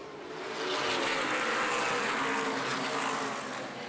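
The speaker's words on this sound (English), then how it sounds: "Now they're on the throttle into turn 3, off 4, and we're back racing once again." Race cars accelerating past at Angola Motorsport Speedway, a broad engine roar that swells in, holds steady and eases slightly, heard from a distance with no talking.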